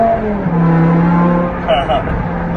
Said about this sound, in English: I have the Eisenman race exhaust on this car